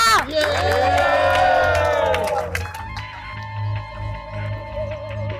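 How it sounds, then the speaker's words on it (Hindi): A crowd in a TV drama scene breaks into loud cheering, with whoops and shouts over clapping, swelling at first and then settling into lower, scattered crowd noise. "तालियां!"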